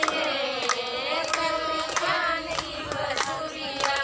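People clapping along in rhythm during a devotional song, sharp claps landing at a steady beat roughly every 0.6 seconds over sustained sung and instrumental tones.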